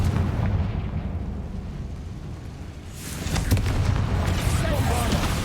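A Confringo spell blast in Hogwarts Legacy, a deep booming explosion that swells after a rumbling lull, loud and close, with a voice heard near the start.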